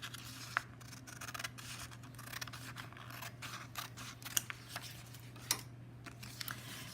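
Scissors snip through paper while trimming a folded sheet into a square for a paper snowflake, giving faint, irregular close-up cuts and rustles over a low steady hum.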